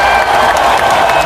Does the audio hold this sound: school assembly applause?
yes